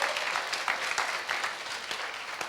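Middle and high school students at a church service applaud, a fairly faint, brisk clatter of clapping with uneven individual claps, alone without talk.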